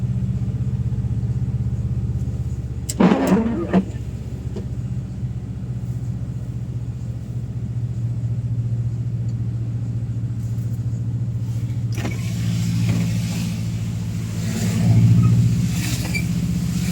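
A black Nissan Patrol 4x4 fitted with a snorkel drives past, its engine a low steady rumble that swells into a broader passing whoosh near the end.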